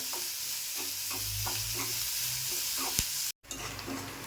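Chopped onion frying gently in a pan, a soft steady sizzle with rhythmic scrapes of a spatula stirring it, one louder knock, then a brief cut before the sizzle resumes.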